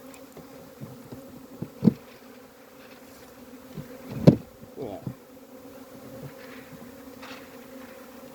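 Bees hum around an open beehive during colony work, a steady close drone with a few louder passes as individual insects fly near.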